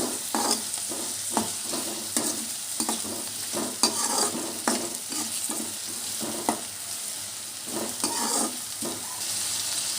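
Chopped onions sizzle in a hot pan while a spoon stirs them, cooking for an amaranth-leaf fry. A steady hiss runs under repeated scraping stirs at close range, with no talking.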